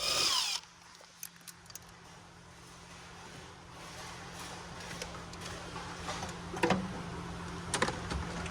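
A power tool spins briefly and loudly while removing bolts during fuel injector replacement on a Toyota Tacoma, a short close whir at the start followed by quieter clinks and handling noises in a workshop.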